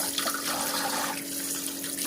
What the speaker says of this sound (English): I'm gonna rinse the meat off, take off all that vinegar water